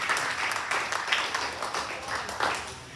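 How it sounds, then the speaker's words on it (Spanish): Church congregation applauding, a faint, steady patter of many hands clapping at a distance for a few seconds. "Alguien le da otro aplauso al Rey"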